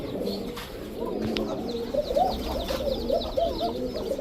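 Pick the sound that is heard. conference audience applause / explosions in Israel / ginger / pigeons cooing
pigeons cooing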